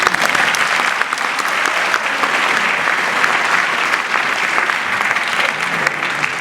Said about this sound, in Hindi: मेरे ख्याल से तालियों में थोड़ी और गड़गड़ाहट हो